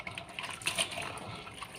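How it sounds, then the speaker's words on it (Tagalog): Tap water pours and splashes into a container of noodles being rinsed in a salted wash, a steady close gushing and trickling that runs alone without talk. "Lagyan ko yan ng asin tapos tubig."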